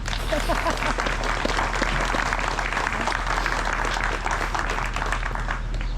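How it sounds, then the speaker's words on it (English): Wedding guests clap together in a steady, sustained round of applause that holds at an even level throughout, with a low hum underneath and faint voices mixed into the crowd. "And I think their parents deserve a round of applause for the great job they've done."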